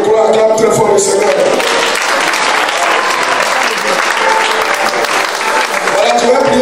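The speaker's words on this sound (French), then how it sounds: "Si tu le crois, acclame très fort le Seigneur." A church congregation at a Tuesday evening worship service bursts into loud, sustained applause and cheering, a dense wall of clapping and voices that holds steady for several seconds.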